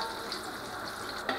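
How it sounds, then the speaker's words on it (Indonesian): Food frying in oil over medium heat, a steady soft sizzle with light crackle running through, close and moderately quiet, with a brief clatter near the end. "Kita goreng dengan api sedang."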